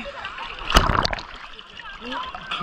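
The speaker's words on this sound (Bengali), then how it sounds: "এখন আমরা সমুদ্রে গোসল করতে নামছি" Water splashes as people bathe in the sea at Saint Martin's Island, one sharp splash and sloshing amid surf, with voices talking over it.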